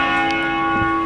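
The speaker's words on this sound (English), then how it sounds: "Oh man, bell tower's ringing" A church bell tower rings with a sustained, rich metallic tone that hangs and hums throughout, fairly loud and close, with no voices heard.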